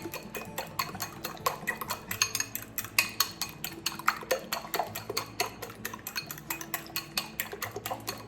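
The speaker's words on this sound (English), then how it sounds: "I'm just going to go ahead and scramble this till the oil is warming up over there" Utensil rapidly scrambling eggs in a bowl while cooking fried fish, with quick, steady metallic clinks and scraping taps close by, without talk.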